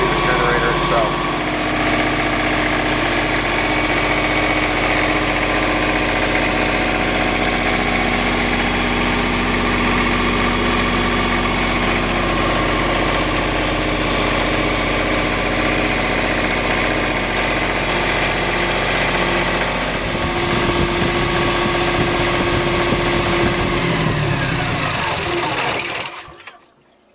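Diesel backup generator with its sound-shield cover removed, running steadily at a loud, close, even drone with mechanical vibration, then stopping at the end; a person talks over it.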